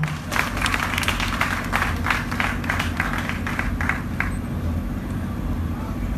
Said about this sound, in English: Let's give a round of applause for Robert Amar.